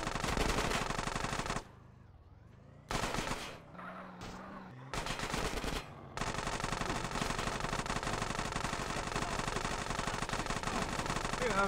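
Rapid machine-pistol fire rattles through a gang fight in GTA San Andreas, long loud continuous bursts broken by a few short pauses, with no voices over it.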